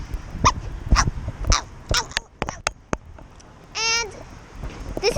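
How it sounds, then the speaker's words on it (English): A dog outdoors in cold weather gives several sharp yips and barks, then a drawn-out whimpering whine, close by and mixed with a person's voice. "This is my dog."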